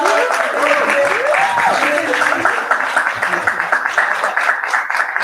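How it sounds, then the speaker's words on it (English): An audience at a criminal justice forum breaks into applause, a moderate wash of clapping that holds steady and slowly thins, with a voice speaking over it near the start. "let's give her a big round of applause"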